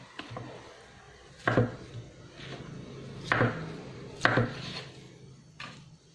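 A knife chops down onto a cutting board five times, cutting tofu into cubes at a slow, uneven pace, close and crisp against a quiet background.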